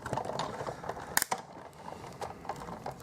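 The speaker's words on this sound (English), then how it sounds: "I'll crank that through the big shot." A Big Shot die-cutting machine is cranked with a die-cut plate sandwich and acrylic plate inside, producing faint continuous grinding and ratcheting mechanical clicks with a couple of sharper clacks midway.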